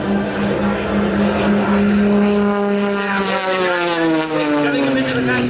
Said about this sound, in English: Check out the incredible roll rate of the MXS.